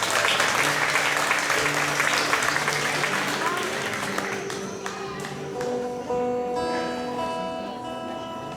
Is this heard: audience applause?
yes